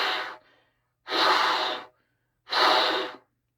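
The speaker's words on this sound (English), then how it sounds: "And I like to just blow through the horn at first." Three long, breathy rushes of air blown freely through a trumpet, each about a second long with short silences between, close and fairly loud with no tone.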